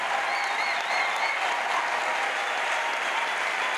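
A large congregation at an evangelistic crusade stands and claps to the Lord, a steady, close wash of many hands with a faint tonal voice or music drifting above it.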